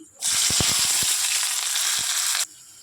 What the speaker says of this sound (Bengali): কড়াইতে তেল গরম হয়ে গেছে, এবার দিয়ে দেবো শুকনো লঙ্কা, দিয়ে দেবো গরম মশলা, দেবো পেঁয়াজ কুচি